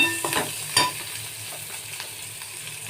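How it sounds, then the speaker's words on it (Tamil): Onions and green chillies frying in a pan give off a continuous close sizzle, with a few louder stirring knocks and scrapes near the start, no voices. "வெங்காயம் பச்சை மிளகா போட்டு வதக்குறீங்க"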